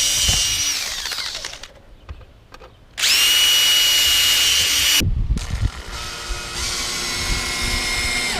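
A power drill whirs loudly in two bursts, boring holes to install a storm door, with brief pauses and clicking handling noises between runs.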